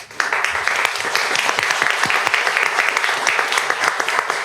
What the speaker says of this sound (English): I'm going to ask for more applause